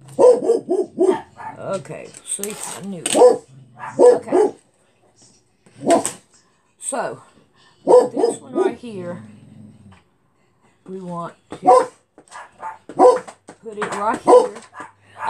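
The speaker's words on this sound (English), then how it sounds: "I'm sorry about the dog." A dog barks and yips in short bursts indoors, sometimes under and sometimes between a person talking nearby.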